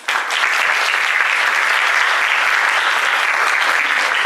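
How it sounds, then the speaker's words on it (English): A theatre audience at a pageant competition breaks into loud, dense applause for patron donors, sustained clapping that stays full and even from start to finish. "Let's give these patron donors a round of applause."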